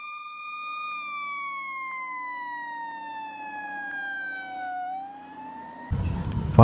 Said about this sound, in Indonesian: Fire Rescue, mobil pemadam api atau pemadam kebakaran.